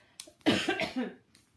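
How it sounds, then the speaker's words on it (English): A single short cough from a woman, close and fairly quiet, with a faint breath before it and nothing else around it. "when I cough normally, it's my cough"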